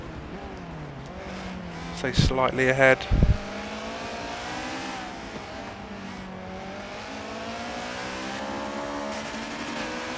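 Subaru BRZ and Honda S2000 race cars battle side by side at Sebring. Engines drone steadily under continuous commentary, with a brief louder burst of engine and tire noise near the start.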